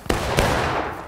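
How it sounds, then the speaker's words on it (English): Two sharp gunshots crack close together in the Civil War video game War of Rights, followed by a brief rumbling echo. "Gunfire in southeast right now."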